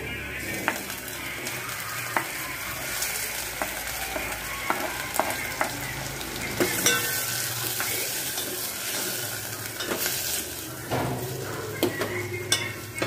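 Tomatoes cooking over a low gas flame in a pan with golden brown onions give a soft, continuous sizzle, with occasional stirring clicks and scrapes. The sound is close but fairly quiet, and no one speaks.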